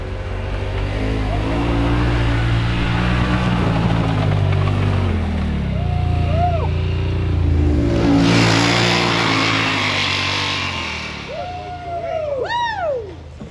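A side-by-side UTV engine revs and strains up a snowy hill climb, loud and close with rising and falling pitch, while other machines rev in the background.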